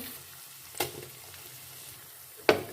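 Crushed garlic and ginger go into browned onions frying for an egg and chickpea curry, giving a faint, steady sizzle broken by two sharp utensil clinks, one quieter and one louder near the end.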